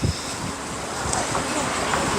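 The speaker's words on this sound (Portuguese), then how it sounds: "Tá ventando bastante agora" Strong wind in Curitiba, Brazil buffets the microphone, producing a constant loud rumbling roar with no clear breaks.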